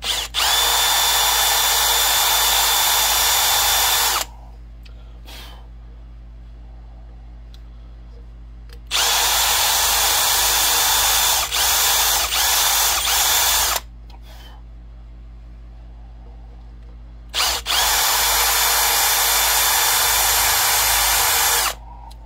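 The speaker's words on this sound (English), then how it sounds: "with the hole for the spout drilled" A power drill boring the spout hole in a cow-horn powder horn, three long steady whining runs of several seconds each, close and loud, separated by quiet pauses.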